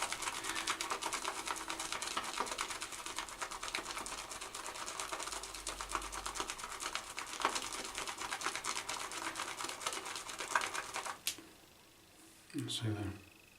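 A Semogue boar-bristle shaving brush works a moisturising soap puck in a tub, giving a dense, steady wet scrubbing and swishing that runs continuously close up, then stops abruptly near the end before a brief clatter.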